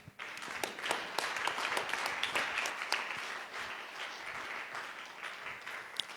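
A church congregation applauding during a sermon, a lively burst of many hands clapping with scattered sharp claps, fairly distant, gradually thinning toward the end.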